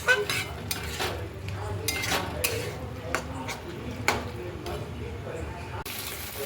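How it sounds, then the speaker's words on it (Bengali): Paneer bhurji seasoned with black pepper being stirred and fried in a pan, with repeated scraping and clinking of a spatula against metal at an irregular rhythm and a soft sizzle underneath. "এবারে আমি এটা একটু ভাজা ভাজা করব, তারপরে নামিয়ে দেবো।"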